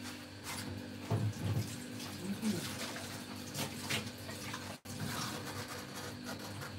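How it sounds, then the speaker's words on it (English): A plate washed under a running kitchen tap, water splashing steadily and faintly with a few clinks, under light background noise and brief voices. "I'm going to wash plate, then we'll eat."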